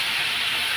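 Water poured into a pan of simmering Bengali fish curry, a loud, close, continuous hissing rush lasting under a second, with no speech.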